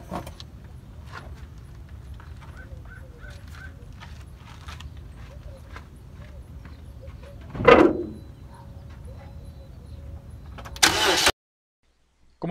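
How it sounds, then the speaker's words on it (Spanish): A car engine cranks and catches in a loud burst partway through, then settles into a steady idle hum, during a battery check with a multimeter; a few mechanical clicks sound before and after. "voy a empezar el carro y ahorita regreso."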